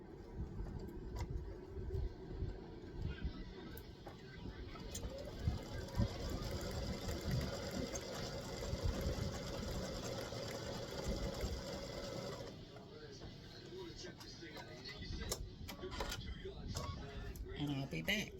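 A computerized embroidery machine runs steadily with white thread, stitching small hole areas of a pickleball king and queen design. The rapid mechanical hum continues evenly for about twelve seconds, then drops to quieter clicks and handling noises.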